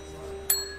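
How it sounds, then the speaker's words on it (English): A bell rings once in the 2015 Windows FMV adventure game Contradiction, a single bright, short chime that rises over a quiet, humming background. "Ring the bell."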